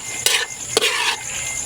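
Goat paklay stew stirred in a pan as it cooks, two sharp scraping strokes of a utensil against the pan over a soft, steady sizzle and bubbling.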